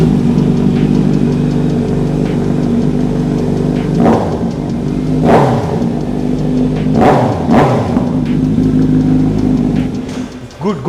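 A 2021 superbike fitted with an SC Project exhaust idles with a deep steady burble, then gets blipped in several sharp throttle revs that rise and fall, close and loud.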